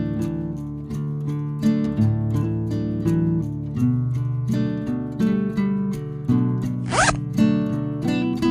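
The zipper of a Kuromi pencil case is pulled open in one quick rasping stroke, heard briefly over continuous background music.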